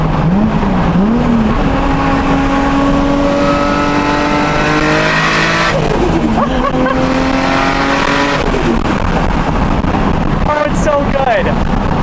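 A tuned Nissan R32 GTR accelerates hard through third and fourth gear, its engine note climbing steadily, dropping at the shift, then rising again. The sound is loud and close, with a brief chirp near the end.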